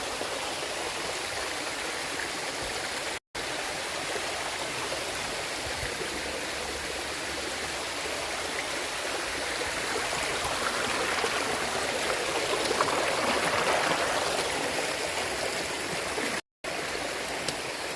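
Forest stream flowing near a waterfall, a continuous broadband rushing and splashing of water that grows a bit louder midway, steady and close with no talking.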